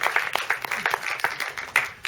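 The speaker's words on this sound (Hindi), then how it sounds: "एक बार जोरदार ताली हमारे रॉबिन भाई के लिए" An audience at a live stage show bursts into dense, continuous clapping, a busy crowd of hands heard steadily throughout, with no talk over it.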